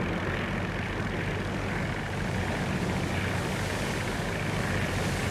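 A steady, loud propeller plane engine drones continuously in an Xbox flight video game, a dense unbroken roar with no talk over it.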